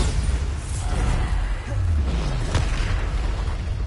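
Bombarda explosion spell in the video game Hogwarts Legacy: a dense, rumbling blast with a noisy crackling wash that holds loud and steady throughout, with no voices.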